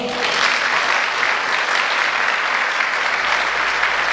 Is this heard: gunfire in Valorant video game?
no